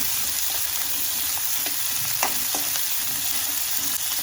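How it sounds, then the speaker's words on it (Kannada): Sliced onions frying in a pan, a dense, even hiss of hot oil throughout with a few faint scraping ticks from stirring, close and steady, with no talking. "ಇದನ್ನು ಹಾಕ್ತಾಯಿದ್ದೀನಿ. ಇದನ್ನು ಚೆನ್ನಾಗಿ ಫ್ರೈ ಮಾಡ್ಕೊಬೇಕು."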